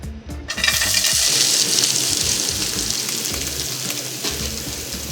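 Beyond Steak pieces hit hot olive oil in a saute pan, bursting into a loud, steady broadband sizzle after a brief quiet start, with faint clinks near the beginning and no talking.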